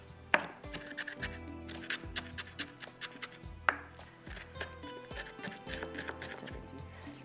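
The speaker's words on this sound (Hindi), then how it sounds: "बिल्कुल बारीक चॉप कीजिएगा" A knife chops ingredients finely on a board for a chicken steak dish, a run of quick, crisp close taps in uneven rhythm with a couple of sharper strikes, no talk.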